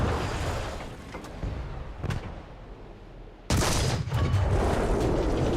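A Panther Ausf. G tank fires in the War Thunder battle game, one loud close cannon blast that cuts through a steady engine rumble and leaves a lingering roar, with a fainter thump a moment earlier.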